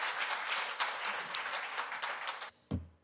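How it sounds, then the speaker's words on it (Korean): Applause from a forum audience at the 2025 KUAI AI event after a lawyer's talk: a burst of brisk clapping that ends abruptly, followed by a short voice. "조정희 대표 변호사님께 큰 박수 부탁드립니다."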